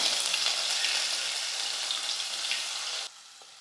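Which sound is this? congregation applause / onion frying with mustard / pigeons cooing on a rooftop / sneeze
onion frying with mustard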